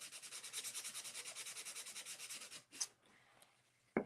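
Rhythmic back-and-forth rasp of hand sanding on a wooden frame, about twenty quick even strokes, then it stops and a few faint knocks and shuffles follow.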